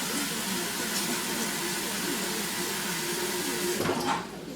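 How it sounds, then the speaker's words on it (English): Water pouring steadily into a pot holding vinegar, carrot and onion for pickled pork skins, a continuous loud rushing stream that tapers off at the end, with no talking. "So now what I do is I add some more water"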